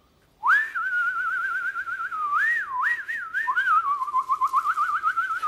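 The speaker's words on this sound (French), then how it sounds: "Quand c'est si simple, même les outils sifflotent." A tool store advertisement featuring a melodic whistled tune, loud and close, holding long gliding notes and then breaking into quick warbles and trills for about five seconds, alone with no talk.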